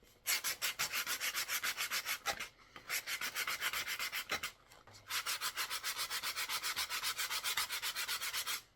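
A wooden flute from a pre-tuned kit is sanded by hand, rapid rhythmic back-and-forth rasping strokes in three runs separated by short pauses, close and steady.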